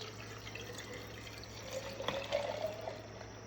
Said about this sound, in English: I'm going to pour the tea in.